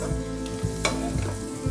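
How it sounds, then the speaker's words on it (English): Cumin seeds with red chilies, bay leaf, cloves, a cinnamon stick and small cardamom splutter in hot oil, a close, continuous crackle of quick pops and sizzling with no talk. "Once the cumin seeds splutter, add all the dry spices first."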